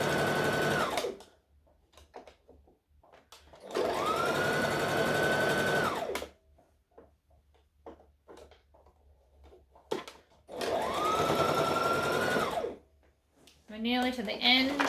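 Sewing machine top stitching a dress, three bursts of steady rapid whirring stitching separated by quiet pauses with small handling noises, and a voice speaking near the end.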